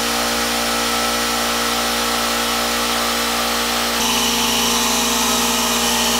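A power sander runs on raw wooden parts with aluminum oxide paper, a loud steady motor whine and broadband scrubbing that shifts pitch and texture partway through, no voices.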